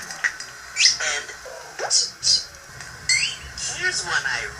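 A person imitates a series of bird calls with the voice: short squawks, chirps and whistled tweets in several separate bursts, fairly close and clear.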